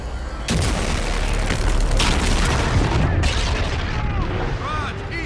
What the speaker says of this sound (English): Concentrate all fire on that supercarrier!